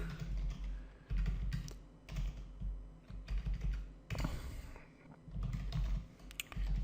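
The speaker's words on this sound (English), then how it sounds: "I can even type here" Typing on a computer keyboard close by, with bursts of rapid key clicks separated by short pauses and brief breaks in the tapping.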